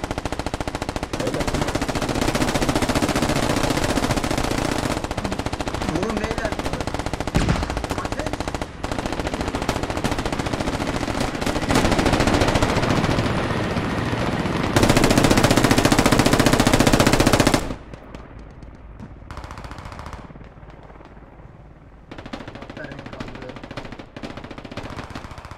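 Rapid automatic gunfire in a Squad video game, loud, dense and continuous for most of the stretch, then dropping to quieter intermittent shots and distant rattles near the end.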